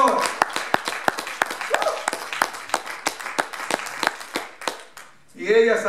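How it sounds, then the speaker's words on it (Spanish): A church congregation applauds loudly during a Pentecostal service: many sharp individual claps over a dense clapping wash lasting several seconds, then a voice speaks at the end. "¿Cuánto le damos un aplauso fuerte al Señor?"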